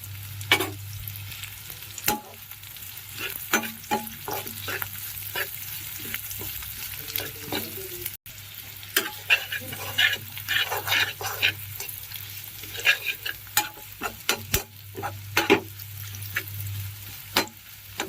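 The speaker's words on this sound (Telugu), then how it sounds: "ఇందాక లైట్గా ఫ్రై చేసుకున్నాం మనం క్యాప్సికమ్ ఆనియన్ని బౌల్లోకి యాడ్ చేసి లైట్గా సాల్ట్ యాడ్ చేసుకుని ఫ్రై చేయాలి." Capsicum and onion with a little salt frying in a pan for crispy butter chilli mushroom, with a steady sizzle under repeated close stirring and scraping clicks, no talk.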